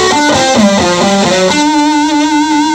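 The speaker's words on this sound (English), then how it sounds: "Most modern amplifiers have a distortion sound built in." Electric guitar played through a Fender amplifier's built-in distortion, a loud, buzzy run of plucked notes settling into a sustained distorted chord.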